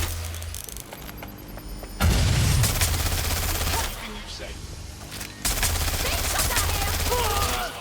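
Gunfire in Watch Dogs: Legion, bursts of rapid shots over a dense game mix, with heavy low booms and shouted voices in the background.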